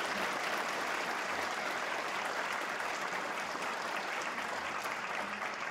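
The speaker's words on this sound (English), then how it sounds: "Let's give one more round of applause to Jill and to Russell." Steady applause from an audience at a policy dialogue event, a dense, continuous wash of clapping that holds at an even level throughout with no voices standing out.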